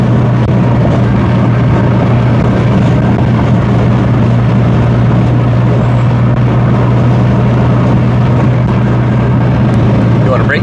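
A 2002 Lexus IS 300 with a fully built 2JZ engine swap cruises steadily in sixth gear at highway speed, a constant low engine drone and road roar running unbroken and loud throughout.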